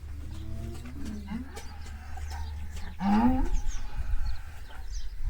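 Cows in a large free-stall dairy barn low and moo, one deep, loud call standing out over a steady barn hum and a scattering of other animal noises.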